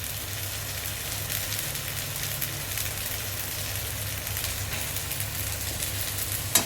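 Ground spices, ginger-garlic paste and green chili paste fry in hot oil in a home kitchen pan, giving a steady, even sizzle with no talk.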